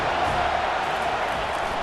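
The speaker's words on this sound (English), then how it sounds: "how nice is it to have the home crowd going absolutely bananas?" A home crowd at a Penn State college football game roars loudly and steadily, a dense wall of cheering that holds through the whole stretch.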